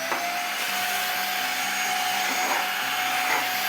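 An Ofuzzi H8 Apex handheld modular smart vacuum runs close and steady, a constant airy roar with a thin high whine and slight shifts in tone, no voices over it.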